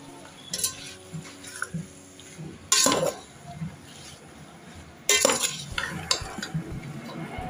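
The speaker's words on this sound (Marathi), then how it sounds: "आता हे सर्व चांगलं परतून घेऊया।" Raw jackfruit vegetable being sautéed in a pan, with a spoon scraping and clinking against the metal in short bursts and scattered softer stirs, close by with no talk.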